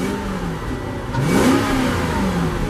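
A 2007 Volvo XC90's old V8 revs just after start-up, a steady mid-pitched engine note that swells into a louder rev partway through. It sounds close and continuous, with no talking.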